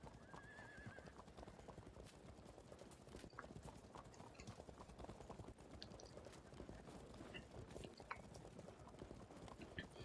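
Horse archers riding in Field of Glory II: a dense, continuous clatter of many hooves with a neigh near the start, steady and fairly quiet with no talk.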